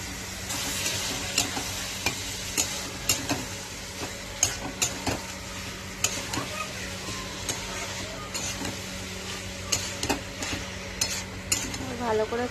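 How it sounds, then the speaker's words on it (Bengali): Boiled chickpeas stir-fried in spiced oil masala in a pan, a steady sizzle with repeated scraping and clinking of a spatula against the pan. "ভালো করে কষিয়ে নেব"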